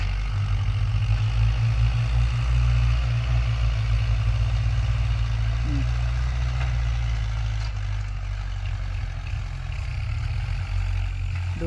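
A tractor engine idles nearby, a loud, steady low diesel chug with a regular pulsing rhythm that continues without a break.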